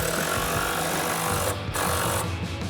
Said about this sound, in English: Grab our impact and 13mm socket, tighten these front two down first.